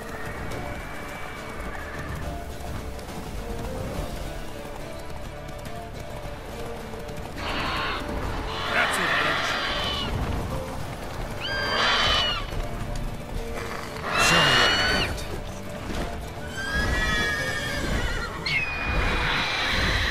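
A horse in The Witcher 3 video game gallops with steady, continuous clip-clopping hoofbeats and lets out several loud, shrill neighs and whinnies over a constant game soundscape.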